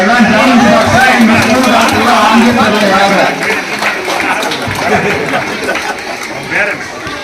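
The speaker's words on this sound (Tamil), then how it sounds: "கைத்தட்டுங்க" An audience at a school ceremony celebrating the launch of a breakfast scheme and Kamaraj's birthday claps in a dense, loud patter, mixed with crowd chatter and a voice over the top.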